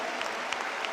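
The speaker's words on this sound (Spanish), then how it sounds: "Aplauso a nuestro Señor." A Pentecostal church congregation applauds in a dense, continuous patter of clapping, with sharper claps standing out now and then, fairly distant and with no voices clearly heard.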